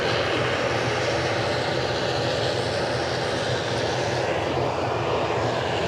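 An airplane on the runway at Edinburgh airport gives a loud, continuous broadband jet engine roar that holds steady throughout, with no voices.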